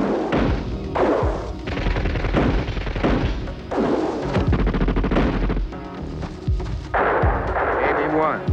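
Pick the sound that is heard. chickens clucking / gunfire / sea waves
gunfire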